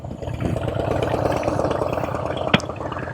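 A big motorcycle idles in a steady, close, even rumble while a learner rider slowly eases out the clutch into the friction zone, with one brief sharp click near the end.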